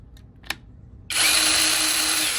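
A faint click, then a BAUER 20-volt brushless cordless pruning saw kicks in abruptly after a slight trigger hesitation and runs at a steady, high-pitched whine for the rest of the clip, loud and close.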